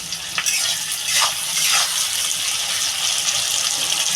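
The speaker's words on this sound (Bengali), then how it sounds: "লাল লাল করে ভেজে নেবো পেঁয়াজটা" Onions frying in a pan with a little salt give a lively, close sizzle with scraping stirs and crackles, steady and fairly loud, with no speech.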